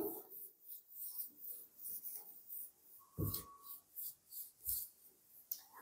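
A pen moving over a notebook page while notes are written out by hand, giving soft scratchy strokes in a repeating rhythm, close and quiet. A brief tone and a few breaths come through between the strokes.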